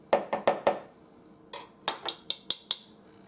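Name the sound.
leveling teaspoon of baking soda with knife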